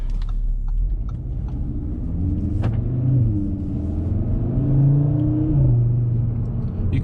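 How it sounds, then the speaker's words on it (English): An Audi RS3 engine rumbles low and steady, with slight pitch shifts and soft exhaust burbles as it eases through gear changes. "You can still hear the exhaust burbles when changing gears."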